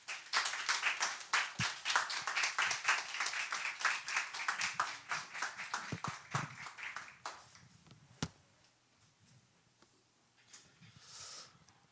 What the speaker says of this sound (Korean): 우리 김민선 목사님 모시고 하나님 말씀 들을 때에 우리 믿음 안에서 우리 귀한 동역자를 박수로 환영하도록 하겠습니다